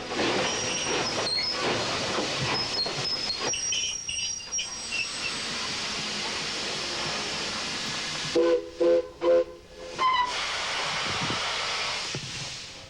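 L&N 152, a steam locomotive, runs on the main line with a steady rumble and hiss throughout, plus short tonal whistle-like blasts near the end.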